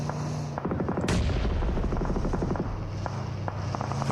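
Rapid bursts of gunfire in a PUBG Mobile esports grand finals match, dense clusters of shots and an explosive boom over a steady background hum.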